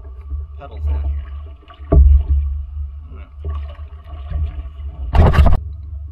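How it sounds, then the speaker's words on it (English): Someone pedals and paddles a Windrider 17 trimaran on open water. Irregular strokes gurgle and swish close by, with a couple of louder splashing surges against a low rumbling background. "I'm wanting to paddle too fast, and I'm getting a lot of water splashed on me"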